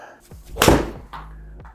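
Golf club strikes a cheap golf ball on a third shot outdoors, one sharp solid impact standing out alone, followed by faint background noise.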